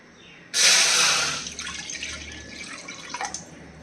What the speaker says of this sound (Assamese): এতিয়া মই ইয়াতে অলপ পানী দি ল'ম।